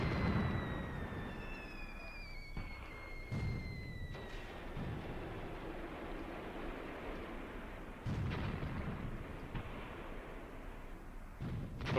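Artillery fire in Graviteam Tactics, a World War II tank battlefield: several dull, distant booms spaced across the scene over a constant low rumble, with whistling shells sliding downward early on.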